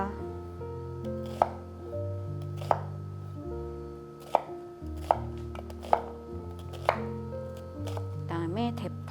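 A knife chopping onion on a board, six or so sharp, evenly spaced cuts heard close, with quiet background music throughout.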